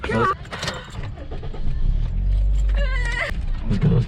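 A car idles and rolls nearby at a fast-food drive-through, its low engine rumble swelling in the middle while excited voices talk over it.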